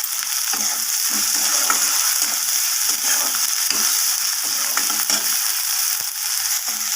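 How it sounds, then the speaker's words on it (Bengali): Onion and green chilies sizzle in oil in a pan for lentil dal, a steady, close crackling fry that runs alone through the clip. "এখানে আমার পেঁয়াজটা সব কিছু ভালোভাবে ভাজা হয়ে গেছে"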